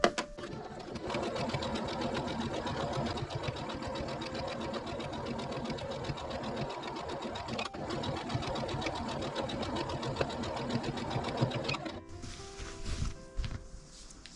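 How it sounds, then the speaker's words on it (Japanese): A sewing machine stitches around a patchwork log cabin block, a fast, steady mechanical rattle that runs loud and continuous for about twelve seconds, then stops with a few handling clicks. "こんな感じでぐるりっと縫っていってください。"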